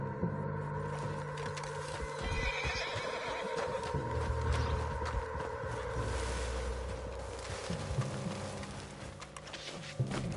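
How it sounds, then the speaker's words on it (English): A horse in the video game Red Dead Redemption 2 whinnies and neighs repeatedly, with clip-clop hooves and game ambience underneath, moderately loud and close throughout. "What's wrong with this horse?"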